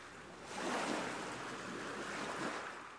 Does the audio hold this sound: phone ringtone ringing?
no